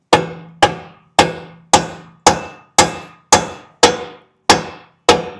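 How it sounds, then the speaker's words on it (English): Ten sharp metallic hammer blows strike a stuck metal part at a steady, even pace, each loud ringing clang decaying quickly before the next. "I wonder if we can just hit it with a hammer now."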